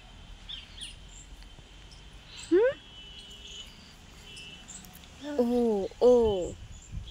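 Birds calling outdoors: one short, sweeping call, then two louder, drawn-out calls a few seconds later over a low, breezy background hum.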